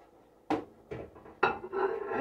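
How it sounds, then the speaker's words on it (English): A few hard clatters of a plate knocked and set down inside a microwave, three or four sharp separate clunks close by with slight rattling between, no talking. "I'm going to put this in the microwave."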